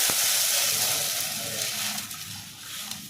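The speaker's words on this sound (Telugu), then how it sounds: "అందులోనే కొన్ని వాటర్ పోసుకోవాలి" A hiss and crackle of hot oil as water hits the pan used for frying bread, loud at first and easing into a steady sizzle.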